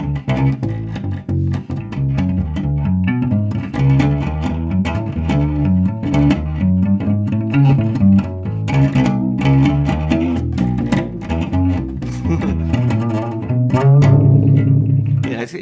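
A Gillett Standard Contour guitar played with its pickup blended with a transducer gives a harsh, bright, continuous strummed and picked passage, loud throughout with a fuller swell near the end.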